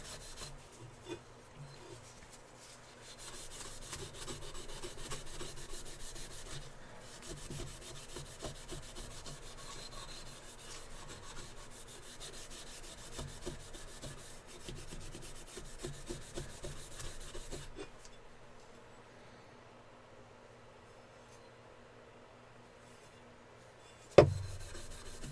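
A knife blade being brushed to a marbled finish with a Scotch-Brite pad, giving soft, steady rubbing and scraping strokes that go on for about fifteen seconds, then quiet and one sharp knock near the end.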